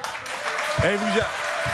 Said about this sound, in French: vous applaudissez ça?